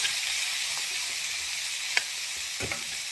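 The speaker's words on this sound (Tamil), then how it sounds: "நல்லா வதக்கிக்கோங்க." Finely chopped broad beans (avarakkai) sautéing in a pan, a bright continuous hiss of frying with a few soft knocks of a spoon, close and steady.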